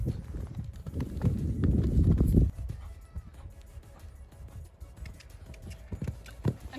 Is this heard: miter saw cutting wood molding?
no